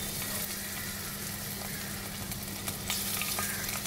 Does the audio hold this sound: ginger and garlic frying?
yes